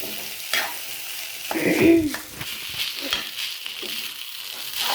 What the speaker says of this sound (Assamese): ঠাণ্ডা ভাতখিনি ভাজি দিয়া, অলপ চব্জি দি সেইখিনি অলপ ভাজি দিছোঁ, ঘিউ দি